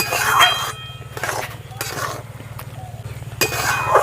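Bread being mixed with milk in a pan over low heat while it firms into a dough, heard as a steady run of clinks and scrapes of a utensil against the pan, fairly close, with a low hum underneath.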